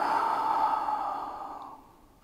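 A single long, soft exhale during a yoga session, close and steady, fading gradually over about two seconds with no talking.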